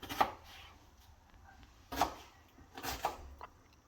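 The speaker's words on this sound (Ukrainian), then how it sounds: "цибулю ми нарізаємо кубиками" A knife chops onion on a cutting board in several separate taps with short pauses between, close and fairly quiet.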